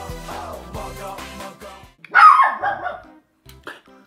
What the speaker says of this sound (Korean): 왜 와서 짖는 친구야?